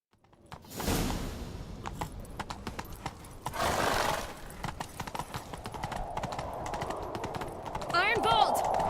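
Horse hooves clip-clop at a gallop in a video game, with a horse whinny and a whooshing swell, while voices talk over the rhythmic hoofbeats.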